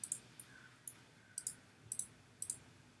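Computer mouse clicking while dragging and dropping shapes in a sandbox modelling program: about a dozen soft, close clicks, mostly in quick pairs at a steady, unhurried rhythm over quiet room tone.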